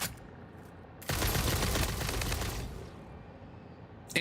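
Gunfire from homing bullets in the video game Satisfactory: a sudden dense roaring burst of shots lasting about two seconds, then tapering off, loud and close with no talk over it.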